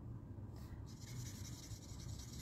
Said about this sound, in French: je vais essayer de colorier vite sans dépasser